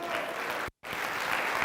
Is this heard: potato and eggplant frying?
no